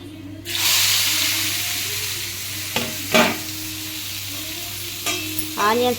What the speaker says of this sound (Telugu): ఇప్పుడు ఫస్ట్ ఇందులోని ఆయిల్ వేసి అందులో జీలకర్ర వేసాను. తర్వాత ఇందులో ఆనియన్స్,